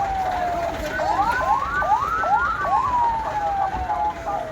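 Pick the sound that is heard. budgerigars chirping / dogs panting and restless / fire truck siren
fire truck siren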